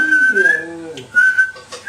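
A person whistles a short, clear melodic phrase up close, with a brief pause in the middle and another quick whistled note near the end, over a quiet indoor background.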